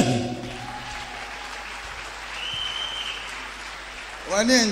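A church congregation at a revival service claps and cheers, a steady dense roar of applause with voices shouting and singing over it, swelling slightly at the end.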